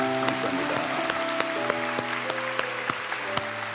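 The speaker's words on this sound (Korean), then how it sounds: "따뜻한 박수로 맞이하겠습니다" Members of a Korean church congregation clap warmly to welcome visitors, steady applause with distinct sharp individual claps over a sustained organ-like chord in the background.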